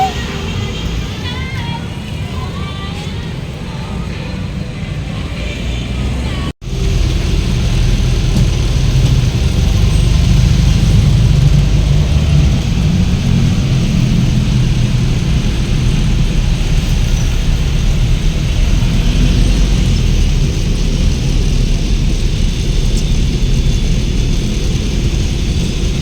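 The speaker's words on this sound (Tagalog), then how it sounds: "sobrang traffic guys" Heavy road traffic rumbles steadily, a dense low roar of engines that drops out briefly and then resumes, loud and continuous, with no voices over it.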